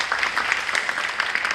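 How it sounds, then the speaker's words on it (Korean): Brief applause from a church gathering marking a Presbyterian day event in Korea, a dense, continuous clapping from a large congregation, fairly loud and sustained across the short span. "박수 한번 보내주십시오."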